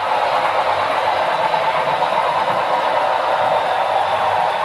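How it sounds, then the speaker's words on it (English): A small model cleaning train runs steadily along its track with a constant close whirring hum and no voices. "There a little cleaning train finally gets to go."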